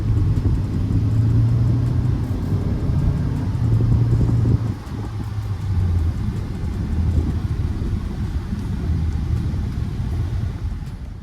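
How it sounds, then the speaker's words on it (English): Steady low engine rumble and road noise inside a 2023 Hyundai Alcazar 1.5 Turbo under hard acceleration, holding constant with a slight drop partway through, no voices. "आप जो engine noise आपको कितनी आती है हार्ड एक्सलेट करने पे गाड़ी में."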